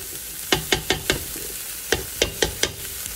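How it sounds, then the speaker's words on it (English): Ground turkey sizzles and crisps in a soup pot while being stirred, a series of sharp scraping strokes in two bursts over a steady close hiss. "That's gonna allow this turkey to kind of like crisp up."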